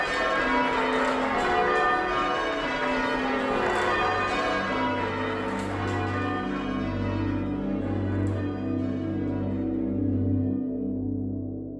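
Church bells ring in a dense overlapping peal, loud and resonant, the tones slowly thinning and fading toward the end.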